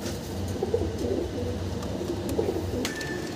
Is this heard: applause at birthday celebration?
no